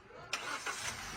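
A Hyundai Accent engine starts in one quick crank, a sharp onset of starter noise catching immediately, with a second surge before settling into an even idle close by.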